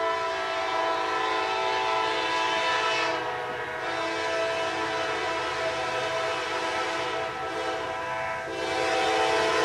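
Norfolk Southern locomotive NS 9527, a Dash 9, pulls away on a V18 train with a loud, steady diesel drone and rumbling wagons close by, continuing unbroken with no talk.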